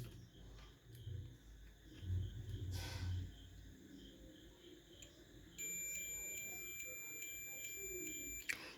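A multimeter set to its continuity buzzer setting beeps with a steady tone for a few seconds while testing the audio receiver (earpiece) of a Samsung M52s phone, following some handling noise and low background hum.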